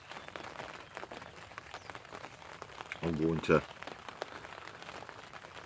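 Steady rain patters on a surface throughout, a dense even hiss with someone speaking briefly over it partway through.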